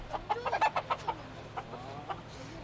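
Free-range chickens clucking on a mountain farm, a run of quick, fairly close clucks at the start followed by a few sparser calls over low, steady background hum.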